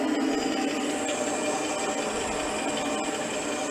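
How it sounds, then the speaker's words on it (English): A metal part for a Waterloo Boy 5HP engine being machined down to size gives a steady, dense whirring cut with a constant grinding texture, close and unbroken throughout, with no talk. "this is just generic machining to get this down to size"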